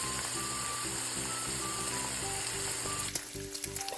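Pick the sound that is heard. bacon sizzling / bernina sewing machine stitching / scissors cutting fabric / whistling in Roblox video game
bacon sizzling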